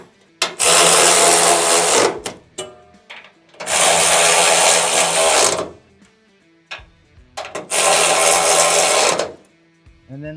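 Three long, loud whirring bursts from an electric ratchet tightening bolts on a Freightliner DEF system, with short clicks and shop noise between the pulses.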